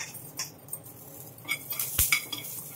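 Curry leaves go into hot tempering oil with a pinch of asafoetida and are stirred, giving scattered metal spoon clinks and scrapes against the pan over a faint sizzle, with one sharp knock near the end.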